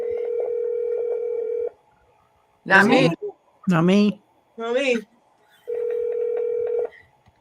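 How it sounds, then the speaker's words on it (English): A telephone line tone plays in steady bursts at the start and end, with several short spoken phrases in between. "Who's on the phone?"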